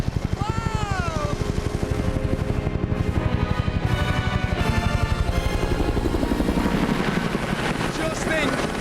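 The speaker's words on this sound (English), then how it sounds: "You can hear the helicopter is circling both our teams." A helicopter circles overhead with a loud, continuous rhythmic rotor chop throughout, while voices talk over it.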